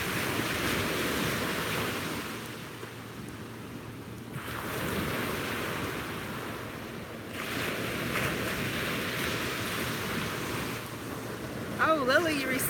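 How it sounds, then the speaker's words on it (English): Ocean waves roll in and wash against the shore in slow swells, with steady wind noise over the microphone throughout. "Don't the waves sound beautiful? Got some rollers coming in too."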